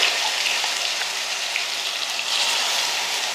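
Shallots frying in hot oil with cardamom, cinnamon and cloves, a dense and steady hissing sizzle, close and fairly loud, with no voices.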